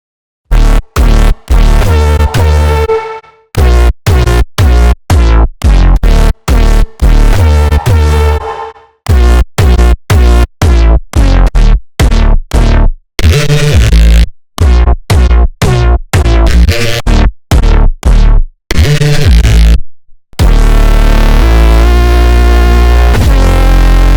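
A bright, gritty synthesized neuro lead made in Serum plays choppy staccato phrases with short gaps, then holds one sustained, dense chord at the end.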